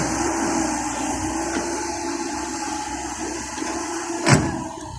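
A Komatsu PC70-8 excavator engine runs under heavy load, likely from a clogged filter, a steady heavy drone with a deep rumble and broad noisy hiss, swelling into one brief louder surge near the end.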